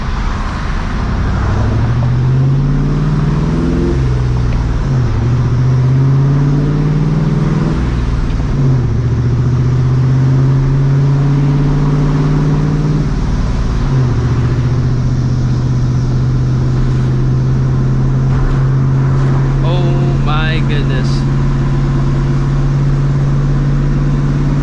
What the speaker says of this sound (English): I literally hear it outside the car. Like this blow-up valve is so loud.